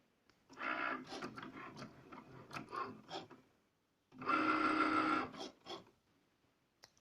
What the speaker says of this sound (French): J'appuie et voilà, ça va démarrer, ça va couper et ensuite vous allez avoir le résultat.